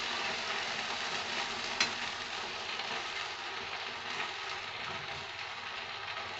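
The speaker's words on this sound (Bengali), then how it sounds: "এবারে আদা আর জিরে বাটাটাকে আমি একটু নাড়িয়ে ছাড়িয়ে পেঁয়াজের সঙ্গে মিশিয়ে নেব, নিয়ে কষে নেব ভালো করে" Ginger-cumin paste being stirred into onions in a hot pan for a soybean kalia, a steady close sizzle of frying with soft spoon scrapes and one brief sharp click partway through.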